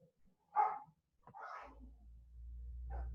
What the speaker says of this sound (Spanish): hay un perro que me está matando